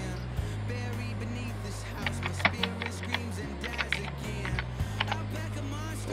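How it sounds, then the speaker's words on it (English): Keys are typed on a computer keyboard, quiet and close, in light irregular clicks over a steady low mechanical hum from a Power Mac G4. "let me type in my password real quick"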